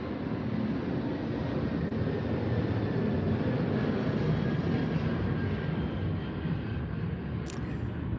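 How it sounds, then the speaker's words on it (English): A fixed-wing airplane drones steadily overhead, a continuous low engine rumble held at a moderate, even level for several seconds with no talking over it. "Yes, plane going over."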